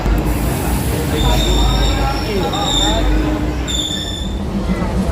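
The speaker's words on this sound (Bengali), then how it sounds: "তো আমরা ট্রেনে উঠে পড়েছি" A second-class AC sleeper train rolls along with a loud, steady rumble, and thin high-pitched wheel squeals rise above it at intervals, heard close up from inside the carriage.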